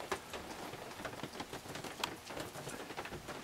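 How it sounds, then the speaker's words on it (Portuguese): Steady rain patters on surfaces outside a parked rented motorhome, a dense even hiss with scattered close drops, heard alone without voices. "com essa chuva"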